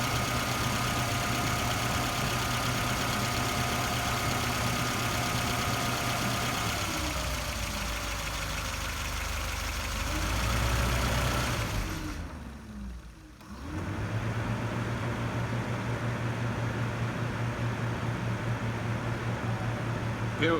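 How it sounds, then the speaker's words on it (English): A Renault 25 engine idles at full operating temperature while its radiator fan runs, a steady low hum and whir heard close up, with the fan sound briefly dropping away midway before resuming. "So it's up to temperature. Fan spinning round."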